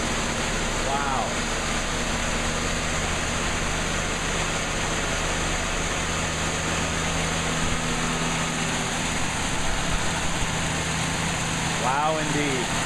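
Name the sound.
1980 Cadillac Seville engine idling after cold start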